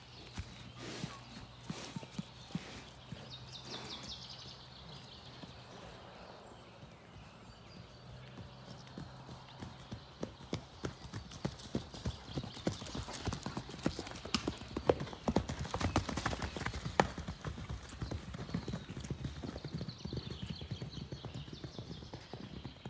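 A horse walking with hooves clip-clopping in a steady rhythm that grows louder and closer over about twenty seconds, some steps faintly overlapping, above a soft background hum.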